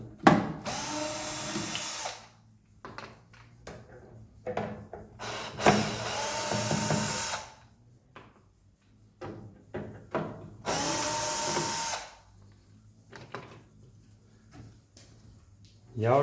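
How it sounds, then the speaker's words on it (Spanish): A power screwdriver backs screws out of the bottom plate of a microwave oven, giving several loud whirring bursts of a few seconds each with quieter handling noise and clicks between them. "a quitar los tornillos de la placa inferior, que lo anclan a la envolvente del microondas"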